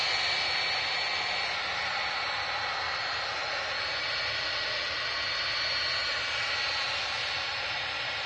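A TUI Dreamliner jet moves across the runway, its steady broadband engine roar and whine holding evenly at a moderate distance throughout.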